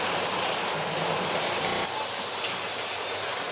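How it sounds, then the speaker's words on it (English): A Triang Wrenn model train, City of London, runs through a tunnel after leaving the station, giving a steady, fairly quiet rolling rumble and hiss that shifts slightly partway through. "the Triang Wrenn model, City of London, comes through the tunnel after having pulled out of the station"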